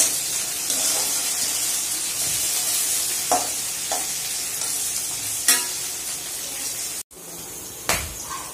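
Sweet corn kernels fry in a pan with a steady broadband sizzle, broken by a few soft stirring scrapes and clinks, one sharp cut near the end; no one speaks.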